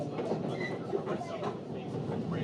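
A New York MTA subway train clunks and rumbles steadily during a ride, with constant low rolling noise and a soft clickety-clack throughout, and faint voices blending into the background.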